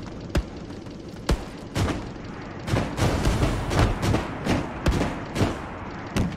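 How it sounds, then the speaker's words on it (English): Gunfire in the World War II shooter game Hell Let Loose on the D-Day Utah Beach map: scattered sharp shots and distant booming thuds over a rumbling battlefield backdrop. "Under fire from somewhere."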